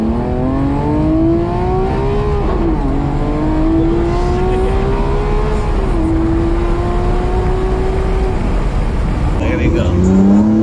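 A Lamborghini Aventador SVJ with a 6.5-litre V12 accelerates hard, heard from inside the car, its engine note climbing through the gears with a pitch drop at each shift, loud and continuous.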